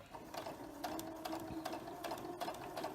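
A sewing machine stitches two pieces of fabric together for a beginner quilt block, giving a steady, rapid mechanical whirr with a rhythmic needle chatter, close and continuous, with no talking.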